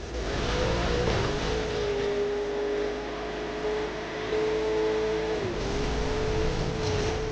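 Video-game car engine driving steadily at speed, a sustained loud drone with pitch shifts as it changes gear or throttle, filling the whole stretch without talk.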